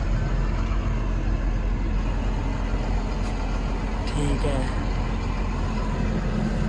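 A Blue Power T 210 tractor approaches with a continuous low diesel drone, and someone speaks briefly over the engine while it keeps rumbling steadily underneath.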